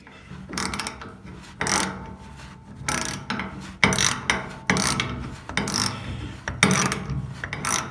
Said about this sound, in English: we're improvising so we can get some access to that screw by using the socket set with the screw head in it